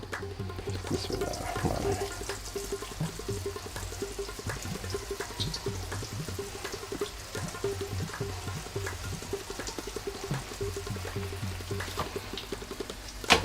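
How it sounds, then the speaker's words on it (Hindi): Bread pieces fry in hot cooking oil in a pan, a steady crackling sizzle that stays even and moderately quiet throughout, with no talking. "अब जनाब मैं इसमें ये डालूँगा, ये जो ब्रेड के मैंने पीस किए हुए हैं वो इसमें डाल दूँगा।"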